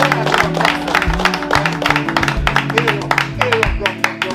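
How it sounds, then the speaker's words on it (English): A small crowd in Trench Town, Kingston gives a round of applause, scattered, uneven claps popping over steady background music, close and fairly loud. "Give them a round of applause."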